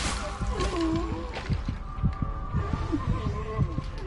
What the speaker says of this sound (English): How can he have a heartbeat?